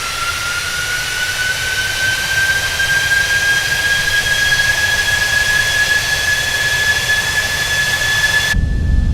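Boeing 747-8F jet engines spooling up in a flight simulator game, a loud steady roar with a rising high whine that climbs and holds, alone and continuous until an abrupt cut near the end.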